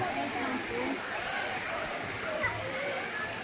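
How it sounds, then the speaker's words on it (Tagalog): Daranak Falls pours in a steady broadband rush of falling water, close and continuous, with a crowd of swimmers and faint voices mixed into the wash. "Ayun na po yung falls."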